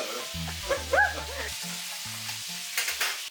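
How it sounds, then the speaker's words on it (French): Ground meat for lasagne cooking in a pan while being broken up and stirred with a spoon and fork, close scraping and clinking strokes over a soft sizzle, several distinct knocks in a short burst, no speech. "c'est bien délié grâce à les efforts physiques de papa avec la cuillère, la fourchette"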